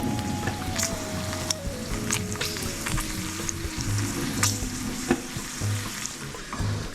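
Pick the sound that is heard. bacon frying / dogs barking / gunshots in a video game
bacon frying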